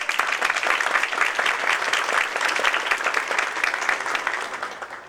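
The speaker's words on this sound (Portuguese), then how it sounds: "uma salva de palmas" Sustained audience applause at a state Public Prosecutor's Office congress talk in Ceará, a dense, even wash of many hands clapping throughout, tapering slightly at the end, with no speech over it.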